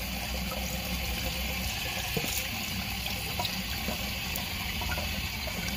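Cool tap water runs steadily into a sink while someone rinses their face, a continuous broadband wash of flowing water with no talking, close by in a shelter room.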